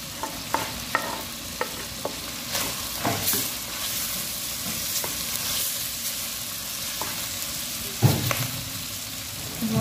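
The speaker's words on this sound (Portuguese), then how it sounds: "Agora eu vou esperar fritar um pouco aqui, né?" Garlic and onion fry in a pan for feijão tropeiro, giving a steady loud sizzle with scattered pops and clicks and occasional clinks of stirring throughout.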